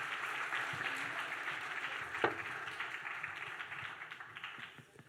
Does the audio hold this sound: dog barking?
no